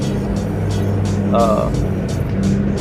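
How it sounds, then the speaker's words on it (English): A 2004 Ford Mustang base model with a 3.9-liter V6 and manual transmission idles and rolls in nearby, a steady low engine hum throughout, with a brief whine in the middle. "So he just texted me saying he was pulling in, and right now we're just sitting up here waiting."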